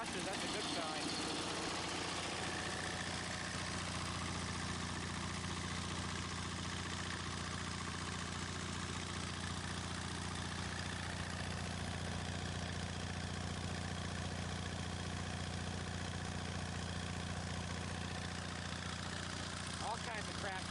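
Engine idling steadily for about twenty seconds, exhaust blowing out of the muffler as debris clears, a continuous low rumble with constant hum and no clear speech.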